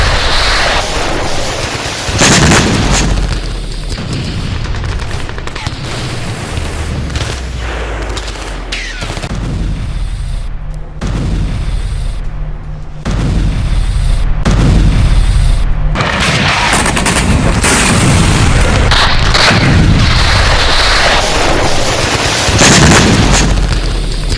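Explosions and artillery fire at a Russian military base in Belgorod during the Ukraine war boom loudly in repeated blasts and crackling bursts, heavy and sustained with no talking.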